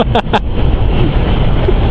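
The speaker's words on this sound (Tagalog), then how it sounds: "Kaya lakas ng hangin, pasalubong pa naman." Strong headwind roars steadily into the microphone beside a passing truck on a road in North Luzon, a broad, rushing blast, with a couple of brief louder bursts at the start.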